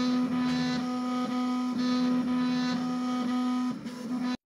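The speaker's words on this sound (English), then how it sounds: "With some printers, you can even hear these vibrations." A Voron 0.2 CNC 3D printer hums and buzzes steadily while printing, its motors whining in a constant tone with faint rhythmic vibration pulses, then cuts off abruptly at the end.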